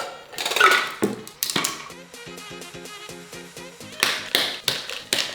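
A cocktail with cranberry juice being stirred, a quick run of light rhythmic clinking and tapping with ringing metallic tones in the middle, between louder bursts of rustle and handling.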